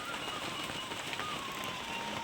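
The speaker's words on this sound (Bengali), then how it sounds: "বাইরে মানে ঝিরিঝিরি মানে বৃষ্টি হচ্ছে" Light drizzle falls outside a village home, a faint, even hiss of rain pattering steadily on surfaces with no other sounds standing out.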